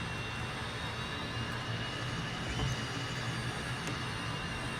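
Leonardo MB-346 jet trainer taxiing in MSFS 2020, a steady broadband engine roar and whine holding level throughout, close and continuous with no talk.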